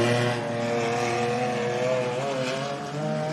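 A 3.5-litre twin-turbo race car built on an essentially stock Ford motor roars on a dirt track, its engine holding a loud, steady, rich drone with slight pitch wavers as it runs close by.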